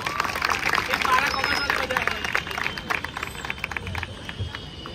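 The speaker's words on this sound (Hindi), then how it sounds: "एक बार मेरी क्लास के लिए तालियां बजाया जाए।" Students at a school farewell in a hall clap and cheer for a class, a lively mix of applause and crowd babble with a voice speaking over it.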